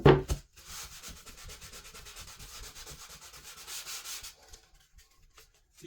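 Close, rhythmic back-and-forth rubbing of sandpaper on a wooden cutting board during a restoration, quick gritty strokes continuing for several seconds before stopping into near silence.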